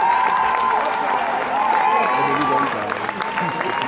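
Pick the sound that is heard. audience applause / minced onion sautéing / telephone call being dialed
audience applause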